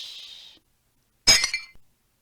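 A floor lamp crashes over with a sharp glassy smash and tinkling breakage, then a small final clink, heard alone and close after a brief hiss and a silent pause.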